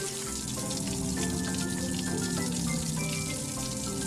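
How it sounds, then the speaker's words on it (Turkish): Water sprays steadily over the lift of Leo, a cartoon truck, in a shower, a dense hissing spatter running without a break under a bright, tonal musical bed. "Bak, lifti serinleten bir duş alıyor."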